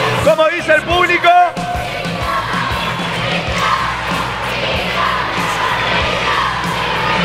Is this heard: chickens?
no